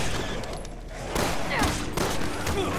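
Bursts of rapid gunfire from the video game Resident Evil 6 clatter in quick succession, fairly loud and dense, with a brief lull before the shooting resumes.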